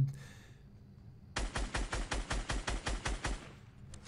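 Rapid burst of about a dozen evenly spaced gunshots in the video game Fortnite, a loud automatic-style volley lasting roughly two seconds after a quiet start.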